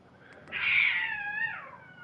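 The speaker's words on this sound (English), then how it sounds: "Holy shit, those cats." A cat in Fallout 4 lets out a single drawn-out meow that rises and then falls away, loud and close, lasting over a second against a quiet game background.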